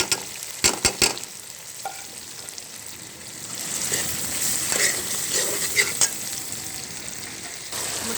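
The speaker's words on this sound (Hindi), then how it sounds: "साथ में ये 2 अदद टमाटर जाएंगे। अब साथ में ये हमारी ब्राउन की हुई प्याज डाल देंगे।" Tomatoes and browned onions for a vegetable pulao frying in a pan, a steady broad sizzle with a few sharp clinks and scrapes of stirring near the start, rising slightly louder in the second half, with no talking.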